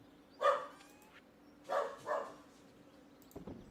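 A dog gives three short barks, one near the start and a quick pair in the middle, each fairly faint and some distance off over a quiet indoor background, with a small clatter near the end.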